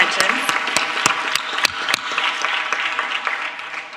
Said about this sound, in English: I suggest we do a round of applause for both of you